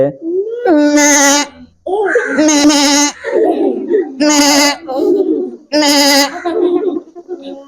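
A voice imitates a goat, giving four loud, wavering bleats in a row, each separated by short gaps with a few quieter vocal sounds in between.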